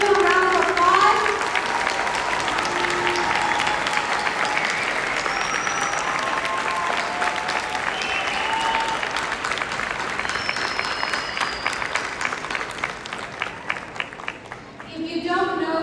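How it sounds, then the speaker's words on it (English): Sustained applause from a large crowd at a graduation ceremony, steady dense clapping filling the whole stretch and tapering slightly near the end, with scattered voices underneath. "let's give them a round of applause."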